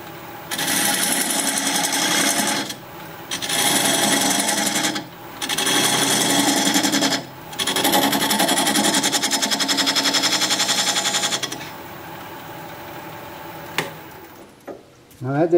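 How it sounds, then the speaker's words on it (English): A wood lathe whirring as a diamond point tool squares up the sides of a tenon on the spinning wood in several long, loud bursts separated by short pauses, then the machine winds down. "use this diamond point tool to square up the sides of the tenon"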